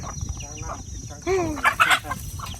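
Farm fowl including chickens and ducks calling near a lone keeper's rural homestead, a few short clucks and squawks rising over steady background noise with faint voices.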